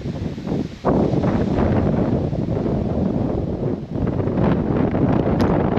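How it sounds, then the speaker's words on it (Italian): Strong wind at a mountain viewpoint buffeting the microphone, a loud, continuous roaring rush with gusty surges and brief dips, close and dominant throughout with no talking. "il vento è molto molto strong"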